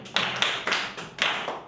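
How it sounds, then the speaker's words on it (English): A handful of sharp, separate claps ring out in a small room during a therapy session for an autistic child, about five crisp hits spaced unevenly, with no voices. "Let's clap for him."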